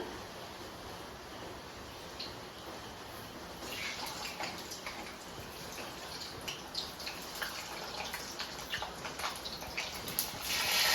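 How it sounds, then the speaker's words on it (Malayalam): Fenugreek and mustard seeds sizzling in hot oil for a Kerala-style prawn roast, a faint, steady crackle and hiss that grows louder and busier with sharp pops toward the end. "ഇനി അതിനകത്തോട്ട് നമ്മള് ഉലുവയും കടുകും ഇടുവാണ്."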